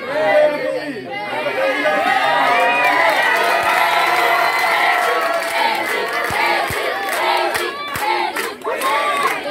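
A crowd of students at a school presentation cheers and shouts in a loud, continuous wash of voices that stays close and dense throughout, with whoops rising out of the chatter.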